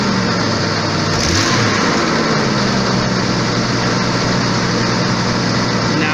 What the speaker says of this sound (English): It's running high RPM.